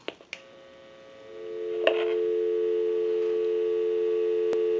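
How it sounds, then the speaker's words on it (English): A few clicks, then a steady dial tone from a Siemens rotary desk telephone rises and holds, clear and continuous, with a brief click near the end. "So we'll go ahead and give you some dial tone."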